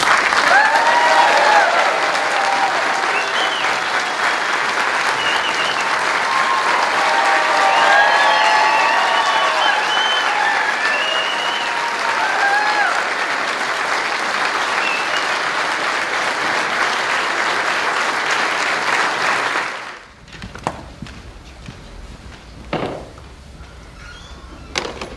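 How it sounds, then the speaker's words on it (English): An audience at a King's Squad passing-out parade applauds and cheers loudly, with sustained clapping and occasional whoops for about twenty seconds before the ovation cuts off abruptly to near quiet with a few faint knocks. "please feel free to clap and cheer as loud as you can"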